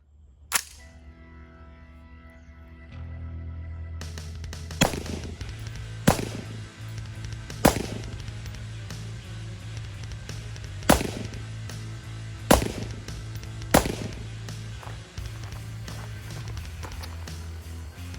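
Gunshots fired at an outdoor shooting range while testing an EOTECH EXPS3 DCR optic at 50 yards: about seven sharp, loud reports spaced a second or two apart over a steady low background hum.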